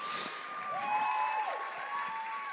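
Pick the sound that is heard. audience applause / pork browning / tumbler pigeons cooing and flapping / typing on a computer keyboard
audience applause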